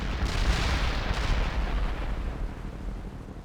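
Artillery barrage in the World in Conflict game, a loud rolling wall of booming impacts that peaks early, then gradually thins and tapers off.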